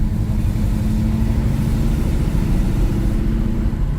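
A 1970 Plymouth Roadrunner with a manual gearbox cruising in fourth gear, its engine giving a steady, loud low rumble with no change in pitch, heard from inside the car.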